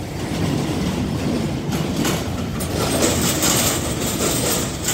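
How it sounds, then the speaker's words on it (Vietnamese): A train rumbles across an iron railway bridge with a steady, dense rattling roar and clattering metal, close and loud, continuous throughout with no voices. "Ở đây là tiếng cầu sắt."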